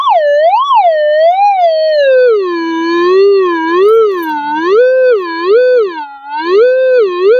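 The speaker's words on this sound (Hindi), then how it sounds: "मतलब पिन पॉइंटर में तो बहुत बेहतरीन आवाज आ रही है" A Minelab pinpointer, used with an X Terra Pro metal detector during live metal testing, gives off a continuous electronic tone that warbles and swoops up and down in pitch, loud and alone, like a siren.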